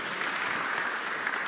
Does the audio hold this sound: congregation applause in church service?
yes